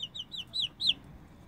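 Chicken clucking beside a white dog, a run of short rising squawking clucks at moderate distance, growing louder toward the end, over a low background murmur.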